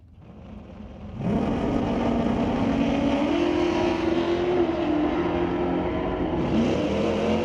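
A 1965 Chevy and a Fox body drag car launch at a drag strip. A sudden loud engine roar bursts in after a quiet moment and holds as a sustained, high-revving blare.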